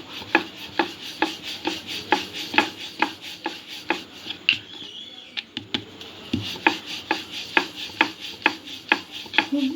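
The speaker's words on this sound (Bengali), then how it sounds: "মোমোর লেচিগুলো সম্পূর্ণ আটা দিয়েই আমি বেলে নেব।" A rolling pin presses flour-dusted veg momo dough balls flat on a board, producing steady close rhythmic thumps and rubbing rolls, with a brief pause midway before the regular strokes resume.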